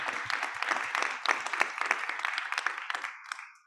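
A community audience gives a panel a round of dense, lively clapping that holds steady and then thins and fades at the end, with a few faint voices mixed in.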